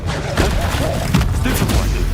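A Confringo blasting spell bursts in Hogwarts Legacy, booming thuds and crackling blasts amid loud game combat sound, with a voice calling out over the action.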